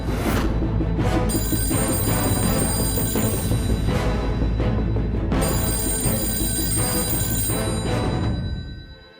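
A telephone rings loudly in repeated bright bursts, filling the room with its bell and then fading away at the end, with no voices heard.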